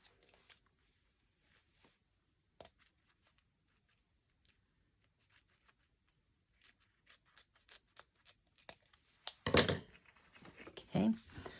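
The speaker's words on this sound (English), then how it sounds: "Okay, so then cut that in the middle." Scissors snipping through ribbon or fabric while making a bow, a string of short crisp cuts building to louder close-up snips and rustling handling near the end, with a quiet, nearly silent start.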